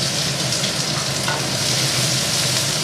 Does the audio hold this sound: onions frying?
yes